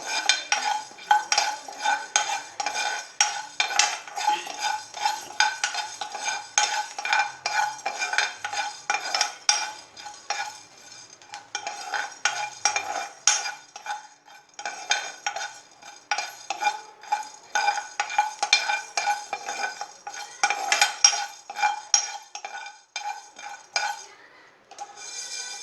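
Rice dry-roasting in a pan for chicken masala powder: steady scraping and stirring with a utensil, with rhythmic clinks of metal against the pan, loud and close throughout with no talk.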